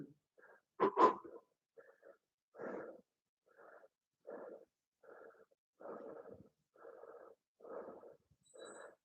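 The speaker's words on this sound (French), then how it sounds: "On inspire et on expire." Heavy rhythmic breathing in and out during a toning workout, close and audible, with about a dozen steady breaths spaced roughly evenly and a sharper exhale near the start.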